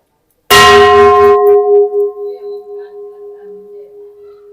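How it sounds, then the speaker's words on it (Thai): A single loud strike on a large Thai temple bell, followed by a long, pulsing ring that slowly fades over several seconds. "นี่ก็ระฆัง"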